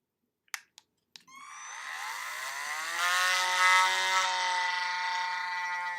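A small drill whines up to speed and grinds steadily into a tiny plastic toy part, preceded by a few sharp clicks, the motor tone holding loud and close for several seconds.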